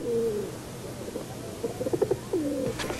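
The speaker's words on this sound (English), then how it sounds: "Photographer Rod Lewis makes his living with the help of a flock of homing pigeons" Homing pigeons coo softly and repeatedly in a flock, low rolling calls with a few faint chirps over a steady outdoor background, no one talking.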